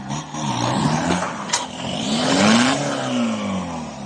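An off-road vehicle engine revs hard as it climbs over rocks, with a loud, close roar that surges and rises in pitch midway before easing off. No voices are heard.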